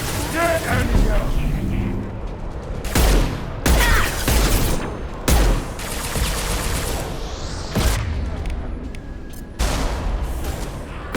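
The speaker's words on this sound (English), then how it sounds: "Firing an impact shot!" Heavy gunfire and booming impacts from a combat firefight in Mass Effect 2 on Omega, loud bursts recurring every second or two over game voices and music.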